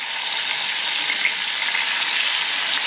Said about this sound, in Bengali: এই যে মাছগুলোকে ভাজা করব এবার লবণ আর হলুদ দিয়ে।